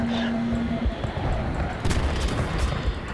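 A locked-on missile launcher fires in the Battlefield 3 video game, heard as a dense, loud blast of game gunfire and booming launch noise that lasts the whole short stretch, with a steady low rumble beneath.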